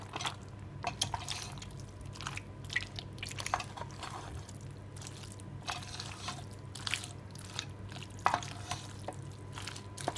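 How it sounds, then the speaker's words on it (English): Cheese sauce being stirred into cooked macaroni pasta, giving soft wet squelching and gentle scraping that stays quiet and steady throughout, with no talking. "Stir that in."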